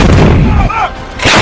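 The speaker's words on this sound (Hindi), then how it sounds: "इसे दुनिया की सबसे खतरनाक और एडवांस आर्टिलरी गन माना जाता है" A loud artillery blast from an M777 howitzer gun, a sharp heavy report followed by a brief rumbling decay and a second burst near the end, up close with no talk.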